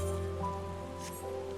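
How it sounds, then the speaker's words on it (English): Soft, steady rain patters in Final Fantasy XIV, low and continuous beneath sustained tonal ambient music. "it's pretty when it's raining here, actually"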